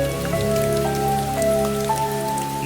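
Rain falls steadily at night at a deserted railway station, a dense, even patter on surfaces with no break across the short stretch.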